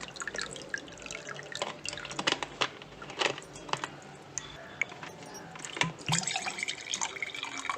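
Water trickling and dripping from a small water can through a pipe, with uneven splashy drips and clicks close by.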